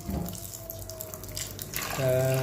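Water runs and splashes into a cooking pot nearby, a steady pouring stream with a faint hum behind it and a brighter gush near the end.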